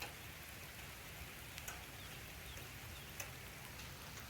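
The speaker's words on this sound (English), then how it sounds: "standing out here in the rain" Steady outdoor rain hisses evenly at a pond, a dense wash of drops with a few louder taps standing out, no voices.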